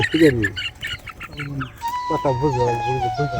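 A chicken clucks in short repeated bursts, close by, with a person talking over and between the clucks.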